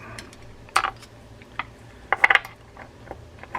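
Screws being turned out of a Penn Senator 112H fishing reel: a few sharp metallic clicks and ticks with short rattling bursts, close and fairly quiet, with no speech.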